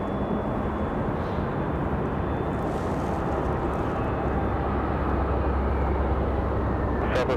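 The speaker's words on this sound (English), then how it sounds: "Republic Airways arrival." A Republic Airways airliner arriving at Raleigh-Durham airport makes a steady, broad roar that holds at an even level throughout, with a low rumble building in the second half and no talk over it.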